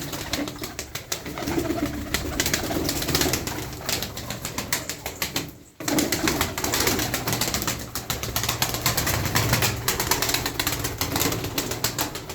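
Tumbler pigeons, a flock of twelve kept by a breeder, coo and shuffle nearby in a steady low murmur with faint wing sounds, interrupted briefly by a short drop in the middle.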